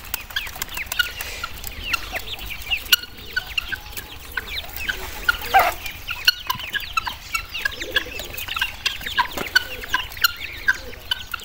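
Several chickens cluck in a steady, busy scatter of short calls while feeding on grain near a rooster and chicks, with a turkey close by; the birds sound fairly near and there is no talking.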